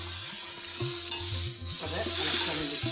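Leafy greens picked from the garden stirring and sizzling steadily in a hot pan, a continuous frying hiss with soft scraping strokes, close and fairly loud with no talking.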